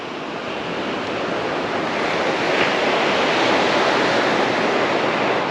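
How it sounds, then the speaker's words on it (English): Steady roar of ocean surf, waves crashing continuously with a broad hiss that swells slightly louder toward the end. "he couldn't hear me over the crashing waves"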